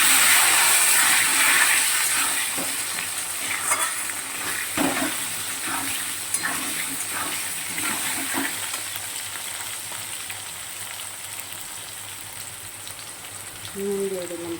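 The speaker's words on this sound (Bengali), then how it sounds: "একটু ভালো করে ভেজে নেবো আলু আর শুকনো" Potatoes and dried red chillies fry in hot oil in a wok with cumin seeds, a constant dense sizzle that is loud and close, with occasional stirring scrapes and no one talking.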